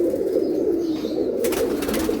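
Giribaj pigeons give low, throaty coos in an unbroken warbling run, close and fairly loud, with a brief burst of brighter rustling near the end.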